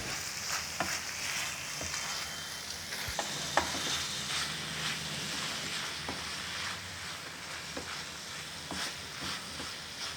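Bitter gourd stir-frying with jaggery in a pan, a steady soft sizzle broken by scattered scraping stirs of a spatula, with no talking.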